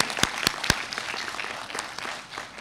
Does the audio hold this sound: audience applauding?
yes